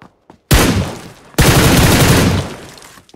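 Rapid bursts of gunfire in the video game PUBG Lite, two long, loud, dense volleys of overlapping shots, close by, with no talk over them.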